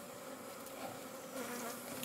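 Honey bees hum and buzz around a beehive fitted with feeders and new boxes, a dense steady drone heard close with no talking.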